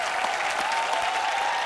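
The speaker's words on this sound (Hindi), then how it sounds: "जोरदार तालियां" Steady, loud applause from a large TV studio audience on The Kapil Sharma Show, dense clapping filling the whole moment without pause.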